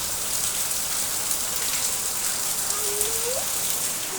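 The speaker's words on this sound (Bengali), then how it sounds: "মানে প্রচুর বৃষ্টি হইতেছে।" Heavy rain pours down steadily, a dense, even hiss of countless drops on surfaces that continues without pause, with a faint rising whistle briefly audible near the end and no one speaking.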